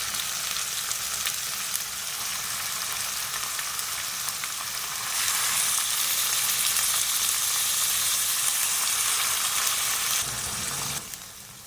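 Half a kilo of machine-minced beef frying in a pan, a steady loud sizzle throughout that grows a little denser midway and cuts off near the end, with no talking.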